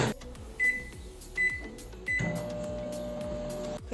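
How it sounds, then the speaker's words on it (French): A microwave oven heats food: three short button beeps, then the oven starts with a steady, close humming drone that carries on to near the end. "je vais mettre au micro-ondes pendant 30 secondes"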